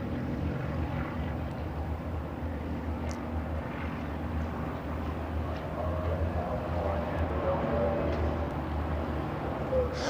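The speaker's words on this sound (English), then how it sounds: "The melodious note of its Alvis Leonides engine accompanies a leisurely takeoff." A Percival Provost RAF trainer aircraft with an Alvis Leonides radial engine takes off at an air show, a steady droning engine rumble, moderately distant, holding level throughout with some wind noise.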